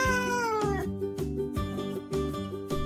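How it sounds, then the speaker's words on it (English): Domestic cat meowing repeatedly in a yard, several drawn-out, strongly tonal meows following one another closely, loud and near with no talking. "Look, the cat is running along the yard"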